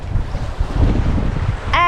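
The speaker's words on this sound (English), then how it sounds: "This morning the wind is a bit light, but if the waves stay like this, we're making awesome speed." Steady wind and wave wash around a sailboat under way on open ocean in light breeze, a continuous broad rushing roar with a short tonal whine near the end.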